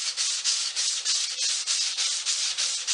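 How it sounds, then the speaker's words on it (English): A sanding block wrapped in 150 grit paper rubs along the grain of quarter sawn oak, giving a close, rhythmic, raspy swish with about a dozen even back-and-forth strokes. "150 on a block, with the grain, of course"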